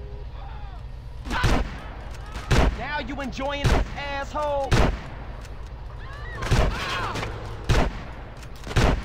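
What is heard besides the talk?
gunfire in the video game GTA San Andreas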